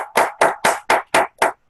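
Applause at a gathering honouring a guru: seven loud, evenly spaced claps in a quick steady rhythm, close and dry, with no talk over them.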